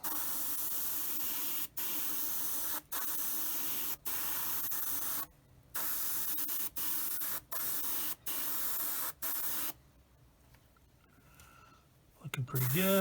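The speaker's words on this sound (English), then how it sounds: "I'm just gonna spray it on here pretty well." Repeated bursts of acrylic paint spraying from a spray can close by, each lasting about a second with short gaps between, some longer, ending in a few quiet handling noises.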